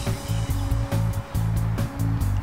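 Buzzing small engine at high revs, pulsing in short repeated bursts, like a model plane motor droning overhead; a Great Planes P-51 Mustang RC model plane engine at full throttle.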